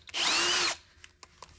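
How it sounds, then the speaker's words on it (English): Cheap spot weld drill cutter boring out a spot weld on sheet metal: one short, loud, high-pitched drilling burst lasting about half a second, followed by a few faint clicks and taps. "this spot weld driller that I bought was pretty cheap off Amazon"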